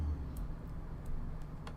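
Computer keyboard and mouse clicked close to the microphone, a few faint scattered taps and clicks over a low constant hum, with no talking.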